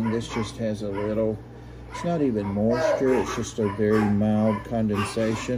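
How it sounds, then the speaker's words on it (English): Several dogs bark and yip repeatedly nearby in rising, whining bursts while a person talks over them indoors. "So, sorry about the dogs."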